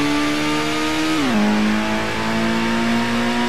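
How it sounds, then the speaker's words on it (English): Mitsubishi GTO engine in Gran Turismo holding a high, steady rev, a loud sustained whine that drops in pitch once as it shifts, then holds again. "The Mitsubishi GTO revs just as high"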